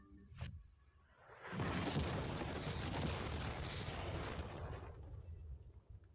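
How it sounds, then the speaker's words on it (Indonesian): An ordinary car blown up in a test explosion, a sharp initial crack followed by a loud, sustained roaring blast that slowly decays over several seconds, with no talking. "kami bakal ledakin mobil biasa untuk melihat apa penumpangnya selamat"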